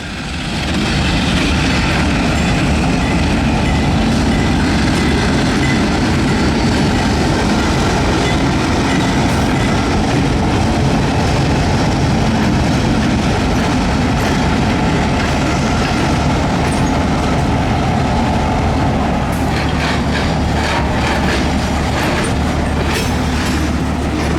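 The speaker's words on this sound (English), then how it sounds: "120 is crossing over the CSX branch line" Carolina Coastal Railway train 120 rolls across a CSX branch line, a loud, continuous rumble of wheels and railcars passing near with clattering rail joints and steady roar throughout.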